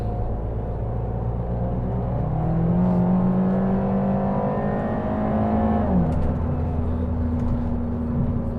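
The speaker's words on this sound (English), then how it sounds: "Small acceleration, go." A Fiat 500 with about 150,000 miles accelerates from inside the cabin, the small engine's drone rising steadily in pitch, dipping at a gear change, then settling into a steady hum.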